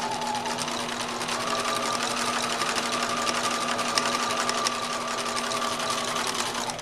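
A sewing machine runs steadily while stitching fabric under the presser foot, a close, even whir with a continuous rapid needle patter.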